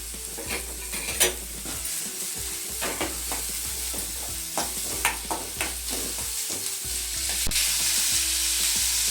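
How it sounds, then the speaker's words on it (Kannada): Chopped onions frying in oil in a pan for Kannada-style paddu, a steady crackling sizzle with intermittent stirring scrapes and clatters, close and continuous without talk. "ಈರುಳ್ಳಿನ ಹಾಕೊಂಡು ಸ್ವಲ್ಪ ಫ್ರೈ ಮಾಡೋಣ ಸಾಕು"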